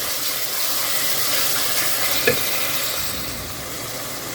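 Chopped tomatoes frying in a pan for egg masala, a loud, continuous hissing sizzle with one brief clink of a utensil partway through, no talk.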